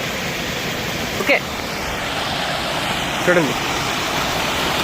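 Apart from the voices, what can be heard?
waterfall water falling from the hills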